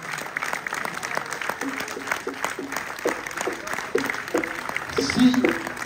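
An audience applauds musicians of a town music society at a concert in Revel, the clapping moderate and uneven, with voices talking over it and rising toward the end.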